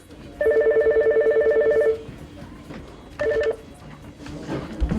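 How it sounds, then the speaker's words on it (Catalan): A telephone rings at a local television station in l'Hospitalet, a bright trilling bell burst lasting about a second and a half, then a shorter second ring after a pause, with room noise in between. "Un dia el telèfon sona moltes vegades."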